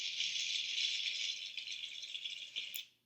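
Hail falls in a dense, steady rattle of tiny ice impacts, a bright continuous patter that holds evenly and then tapers away near the end.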